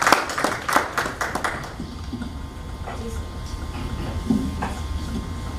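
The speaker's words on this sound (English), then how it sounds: "Let's give them an applause for their presentation." A few scattered claps from a meeting audience in Zanzibar, heard for the first second or so before fading into a low room murmur.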